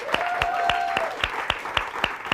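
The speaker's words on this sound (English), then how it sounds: "can we just have one more round of applause for him?" Applause for a comedian at a spoken-word show, heard as sparse, evenly spaced claps at close range, with a faint tone held underneath.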